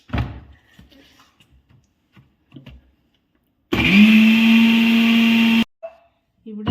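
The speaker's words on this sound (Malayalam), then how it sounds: "ഇത്ര സൗണ്ടിലൊക്കെ മിക്സിയൊക്കെ അരയ്ക്കുമ്പം ചുറ്റുമുള്ളവർ എന്താന്ന് ഓർക്കാതിരുന്നാൽ മതി" Electric mixer grinder whirring loudly as it grinds a paste with water in a home kitchen in Germany, a steady roar of about two seconds that starts and stops abruptly, with faint talk and kitchen knocks before it.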